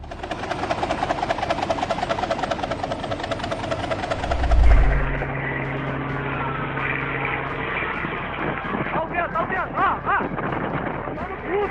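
An AgustaWestland AW139 helicopter's loud rotor chop and engine whine roar close by at low altitude, with a heavy thump partway through and voices talking over the steady noise.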